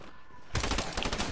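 After a quiet moment, a burst SMG in a video game fires rapid, closely spaced rounds in a short stuttering volley that lasts under a second, sharp and close.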